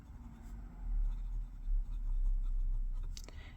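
Fine nib fountain pen scratching across paper, a soft close scribble in short continuous strokes with a brief lift near the end.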